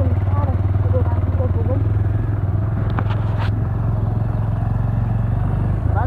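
A Honda XR motorcycle rides off-road on a rough mountain track in Khotang. The engine holds a steady, close, low drone with faint clatter, and voices sound over it.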